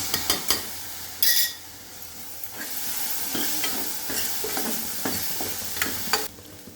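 Okra frying in a pan with tomato, sambar powder and spices, stirred by a utensil: a close sizzle underneath repeated scraping strokes and occasional clinks against the pan, with no speech.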